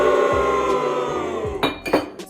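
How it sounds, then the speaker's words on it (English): A hen's egg is cracked against a metal Boston shaker, giving two or three sharp clinks and taps near the end, close up, over a steady kitchen background hum. "So I'm gonna just crack my egg"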